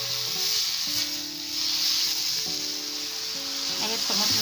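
Tomatoes cooking in a pan give off a soft, continuous sizzling hiss that swells slightly toward the end, with faint stirring or scraping and a low hum underneath.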